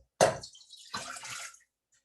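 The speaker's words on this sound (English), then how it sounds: "you're going to add in your cup of water" A cup of water poured into a cooking pot for macaroni and cheese, a short splash followed by about half a second of running pour, close and fairly quiet.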